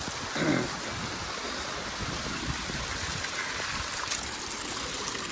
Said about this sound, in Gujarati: જો અહીંથી પાણી આવે છે, એક વાંથી આવે છે, એ ટાંકામાં જાય છે